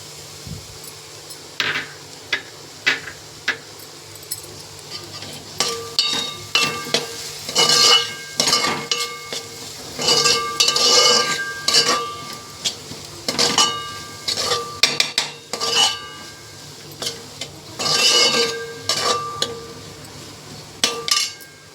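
Ginger garlic paste fries with browned onion in a pan for pav bhaji, a metal spoon clanking and scraping against the pan in repeated bursts over a steady sizzle, close and fairly loud, with no talk.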